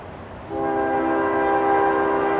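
A CSX intermodal freight train sounds its horn, a loud sustained multi-tone chord blaring up close after a low rumble of the approaching train, with no talk.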